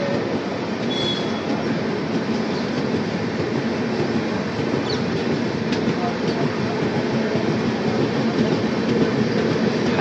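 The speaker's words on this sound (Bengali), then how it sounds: "অবশেষে দেখো কলাইকুণ্ডা থেকে কিন্তু আমাদের ট্রেন ছেড়ে দিল" The 12814 Steel Express passenger train pulls out of Kalaikunda station, heard from on board as a loud, continuous rumble and rattle of wheels on rails, with faint squeals and a voice talking over it.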